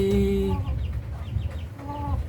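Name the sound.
Rhode Island Black Mahogany rooster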